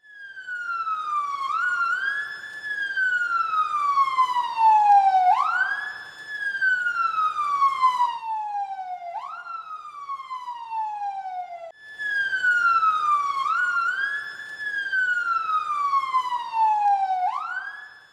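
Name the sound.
police car sirens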